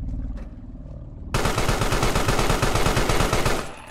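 Rapid automatic gunfire in the game Carrion starts abruptly after a short lull with low background sound. It is a loud, dense stream of shots that lasts a couple of seconds before tapering off.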